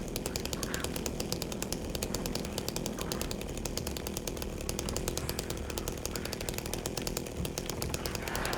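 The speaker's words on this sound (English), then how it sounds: "It's funny how he takes the chainsaw out before you get close" A chainsaw buzzes continuously in the video game Silent Hill 2 Remake, a steady, faint, rattling drone with no talking over it.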